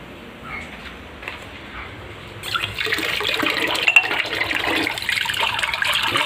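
Tap water suddenly arrives and runs, starting after a quiet stretch with a gush, then flowing as a steady, loud rushing stream close by, with no talk over it.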